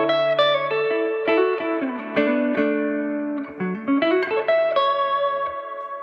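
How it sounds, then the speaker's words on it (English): A guitar played through a Vintage Sound Amps Vintage 20 amp with a big, open reverb, chords and single notes ringing out and lingering in a wide, washy tail, no voices over it. "kind of a big open reverb sound"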